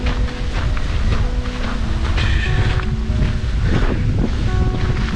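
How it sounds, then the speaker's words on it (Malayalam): Strong wind buffets the microphone in a park with ponds and water bodies in Malmö, Sweden: a loud, continuous roar and rumble with no speech. "കാറ്റ് മാത്രമേ ഉള്ളൂ കുഴപ്പം. നല്ല കാറ്റ്."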